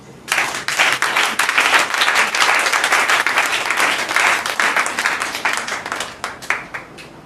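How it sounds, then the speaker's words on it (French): A church congregation breaks into loud, sustained applause, with dense clapping close by that swells quickly and fills the room before thinning out toward the end. "Acclamons Jésus."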